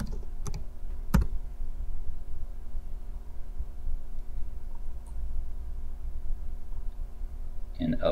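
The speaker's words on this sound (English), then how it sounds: "I'm slow double clicking on these to rename them." Computer mouse clicks and keyboard keystrokes come from a desk during CAD work in Autodesk Inventor 2017: a few sharp, isolated clicks over a steady low room hum, with a faint click at the end.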